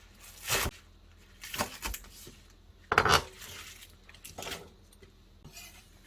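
Kitchen knife slicing a handful of scallions into long lengths on a cutting board during autumn kimchi preparation, with five separate sharp chopping knocks spaced irregularly, fairly close and alone.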